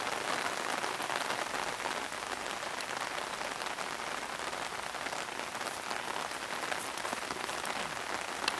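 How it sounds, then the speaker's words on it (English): Rain pattering steadily on surfaces at a disc golf course in Pennington Gap, Virginia, a constant close crackling hiss that stays even for several seconds with no talk. "Rain."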